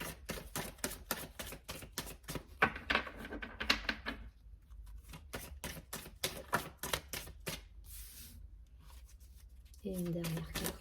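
Oracle cards are shuffled and drawn from a deck in a string of quick, crisp taps and flicks, close and fairly quiet, with someone talking softly in between.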